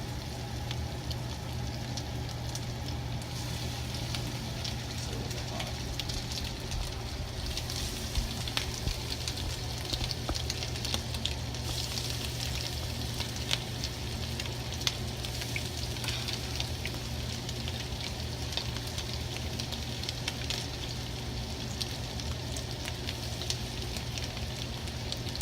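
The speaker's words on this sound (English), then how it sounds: "That sizzle, that's prime." Breaded blue grouse pieces frying in a hot pan, giving a steady, close, dense sizzle and crackle that holds evenly throughout with no talking.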